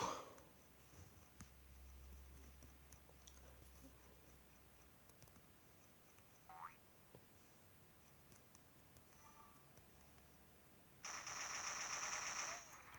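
Gunfire from weapons in a first-person shooter video game, a brief burst early on and a louder sustained rattle near the end, heard with no talk over it.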